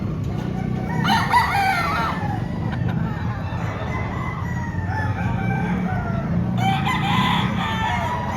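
Several gamefowl roosters crow outdoors on a gamefarm, some calls overlapping, over a steady low background hum with occasional clucking.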